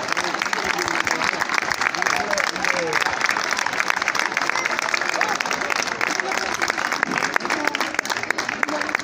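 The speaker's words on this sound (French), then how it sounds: "Je crois qu'on peut applaudir très fort le travail des enfants, le travail des enseignantes." A dense wash of clapping from an audience of families at a children's school carnival event, steady and fairly even throughout, with chatter and voices mixed underneath.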